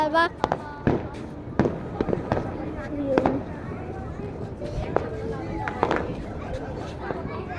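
New Year fireworks going off at night: sharp bangs and crackles pop at irregular intervals, some close and loud, others fainter, while people chatter in the background.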